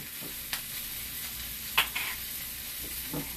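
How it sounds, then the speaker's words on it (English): Wilting greens sizzling in a pan as tongs move them around, a steady hiss broken by a few soft clicks and scrapes, close and unaccompanied by talk. "Take my tongs, move it around a little bit."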